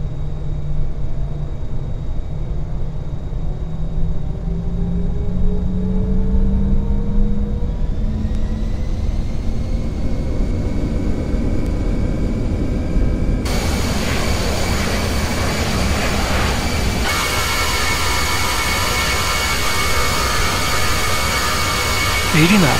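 In the FSX flight simulator, an Airbus A321 airliner's jet engines spool up for the takeoff roll, a rising whine building into a loud, broad roar that steps up in power and keeps going.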